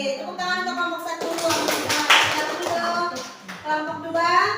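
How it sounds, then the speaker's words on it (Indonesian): Classroom applause for a student group during a teacher's lesson, scattered hand clapping under and between the teacher's talking, rising in the middle and trailing off. "tepuk tangan untuk kelompok 1"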